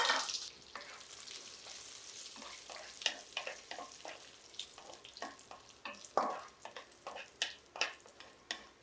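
Ingredients for rava laddu frying gently in ghee over a low flame, a soft, quiet sizzle broken by a series of light crackles and stirring taps, with no one speaking.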